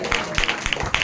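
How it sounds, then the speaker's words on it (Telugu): A church congregation gathered for a testimony claps hands in a short scattered patter of claps, with a voice speaking over it. "కొట్టండి చప్పట్లు."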